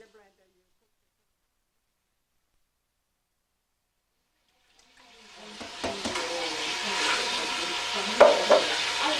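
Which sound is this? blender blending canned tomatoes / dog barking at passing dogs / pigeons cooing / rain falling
blender blending canned tomatoes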